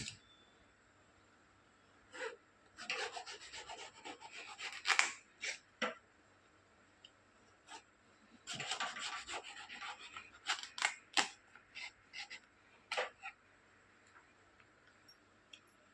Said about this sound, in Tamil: இப்போ நான் பூசணியை கட் பண்ணிக்கிறேன்